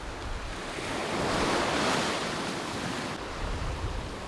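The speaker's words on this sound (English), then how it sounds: "It's quite windy out there today" Steady, broad roar of wind buffeting outdoors by the shore of a Puerto Rico beach, swelling in the middle and easing slightly toward the end, with no voices.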